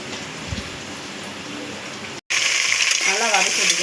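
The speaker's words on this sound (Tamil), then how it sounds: "வெங்காயம் வந்து ஒரு கோல்டன் ப்ரௌனிஷ் கலரில் வர வரைக்கும் கொஞ்சம் நல்லா ஃப்ரை ஆகட்டும்" Onions fry in a pan toward golden brown, making a dense, rain-like crackling sizzle that runs steadily, cuts out briefly, then returns louder.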